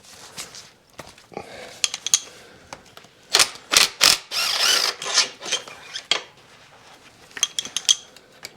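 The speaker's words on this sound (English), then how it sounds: "It's weird when I watch your videos, I literally can hear the impact and know it's mine." A well-used 1/2-inch impact wrench working on a 6.0L Powerstroke diesel engine, sounding as a string of sharp, rapid hammering bursts with short pauses between them, close and fairly loud, with no talking.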